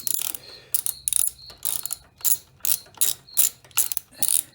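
A ratchet wrench working a bolt on a Harley Street Glide during shifter shaft bushing removal: a regular series of loud, close clicking ratchet strokes with short pauses, and no talking.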